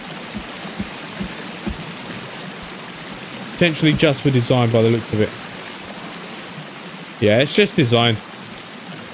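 A waterfall in the survival video game Sons of the Forest, at a lakeside village base, gives a continuous hissing rush throughout. Someone talks over it in two short bursts.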